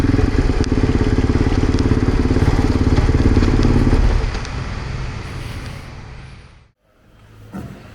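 Loud, close motorcycle engine idling and revving on a camping road trip in northern Italy, then dropping off as it is parked, with a short dip near silence before a faint rumble returns.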